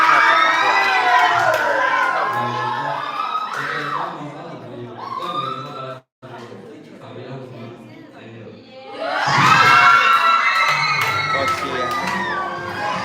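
Crowd of fans and children shouting and cheering for a singer at a live event, a loud burst of high excited voices that fades briefly, pauses, then swells again even louder, with chatter throughout.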